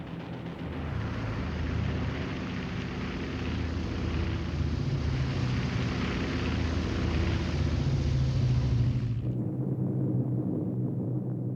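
Droning B-29 bomber engines roar in a steady, loud, dense rumble that holds evenly for several seconds before cutting off abruptly.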